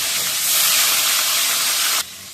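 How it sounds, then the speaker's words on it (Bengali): Hilsa fish frying in a pan give off a loud, steady broadband sizzle that holds for about two seconds, then drops suddenly to a quieter hiss. "এবার আমি মাছগুলো ভেজে নিব"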